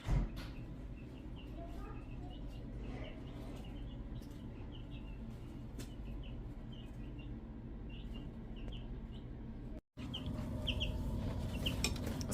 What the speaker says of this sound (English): the chickens are in here as well